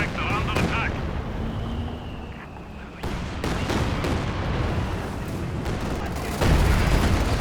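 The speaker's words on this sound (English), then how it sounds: "There's the Katyusha." Katyusha rocket artillery launching in Company of Heroes 2, a sustained roar of rockets with booming impacts and battlefield rumble, loud and continuous, ending in a heavier blast.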